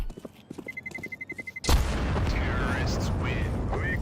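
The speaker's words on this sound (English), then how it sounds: "It's going to explode." A C4 bomb detonating in Counter-Strike 2, preceded by a rapid, quickening electronic beeping, then a sudden loud explosion whose roar and debris rumble linger to the end.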